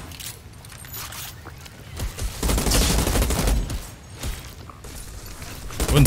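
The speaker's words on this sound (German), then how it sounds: "also wir können aus der Deckung schießen" Gunfire from cover in the third-person shooter Outriders, a dense volley of shots swelling loud in the middle of the stretch, with a few scattered bursts before and after.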